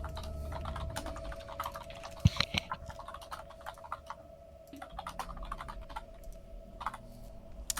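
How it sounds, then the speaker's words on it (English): Rapid typing on a computer keyboard, steady clusters of light clicks close by with small pauses, alone without talk behind a faint constant hum. "I hear a lot of typing."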